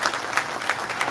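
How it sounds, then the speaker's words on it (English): A crowd at a Marvel Legends panel at San Diego Comic-Con claps briefly, a dense wash of hands with a few sharper accents, loud and close, lasting only about a second. "Can I just buy a round of applause?"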